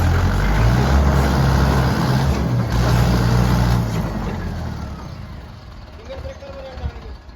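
A tractor engine rumbles steadily nearby, a low heavy drone that fades somewhat toward the end, with people talking over it.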